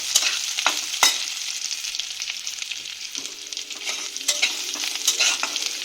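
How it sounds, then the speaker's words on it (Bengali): Jackfruit seeds stirred and fried in a pan for a sour fish curry: a steady, bright sizzle broken by repeated scraping strokes of a spatula, close up and with no one speaking. "তো দেখো এটাকে আমি একটু নেড়ে ভেজে নেবো"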